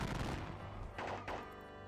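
Musket volleys crack and rumble in the Civil War strategy game WDS Battle of Gettysburg, a dense burst of gunfire followed by a couple of softer thumping shots.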